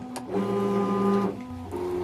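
A LOKLiK iCraft cutting machine runs with a steady, close motor whine and buzz like a printer, pausing briefly before starting up again with a shifted tone, with no speech.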